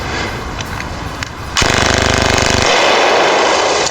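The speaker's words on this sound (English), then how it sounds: "Its firing sound is sharper and higher pitched than the classic Uzi, like rapid, dry pops in tight succession." A submachine gun fires a dense, continuous burst of rapid, sharp, dry pops in tight succession, starting abruptly after a quieter, noisy lead-in and staying loud to the end.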